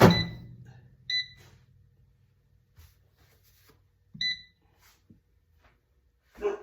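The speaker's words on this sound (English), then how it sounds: "Our 4-minute timer has gone off." An air fryer timer at 325 degrees goes off with two short bursts of electronic beeps, each a pair of bright, clear tones. They sound close and stand apart from soft background rustle.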